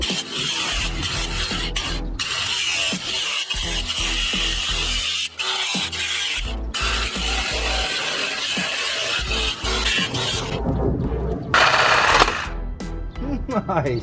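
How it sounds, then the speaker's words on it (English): An angle grinder fitted with a cutoff wheel slices through metal while an LS engine is test-fitted, a loud, continuous, harsh grinding roar held steady close by for the full stretch, with brief shifts in pitch as the cut changes. "I'm gonna do the bottom the same way I just did the top right now with the cutoff wheel on the grinder."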